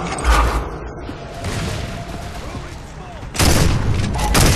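A Digger launcher explosion in a ranked execution match on the Haven map of a video game: a sudden loud, broad blast about two-thirds of the way through, rumbling on after steady background game noise and faint voice chatter.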